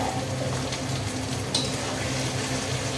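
Ground spices, cumin and coriander powder, frying in oil with onions for goat curry, a steady close sizzle with light stirring scrapes underneath.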